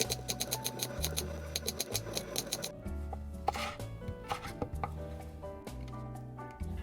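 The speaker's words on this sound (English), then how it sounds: "Then cut it into long strips." A knife cutting daikon into long strips on a board makes quick, even taps in short runs, heard close and clear over steady background music.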